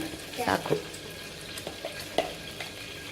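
Bay leaf and cloves sizzle in hot oil at the start of a chicken gravy, with soft frying crackle broken by a few brighter pops and stirring clatters close by.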